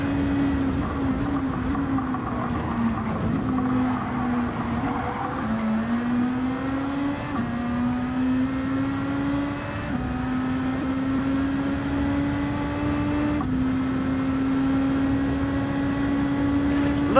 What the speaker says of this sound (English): Look at the CLK! It is absolutely flying!